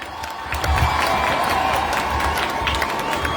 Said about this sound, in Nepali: जोरदार तालीको साथमा तपाईहरुले एकपल्ट स्वागत गरिदिनु म आग्रह गर्छु